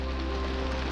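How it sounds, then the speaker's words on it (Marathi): Heavy monsoon rain pours steadily on a road down from Rajmachi fort, a dense, continuous hiss with no pauses, loud and close. "आता भर पावसात आम्ही खाली चाललोय"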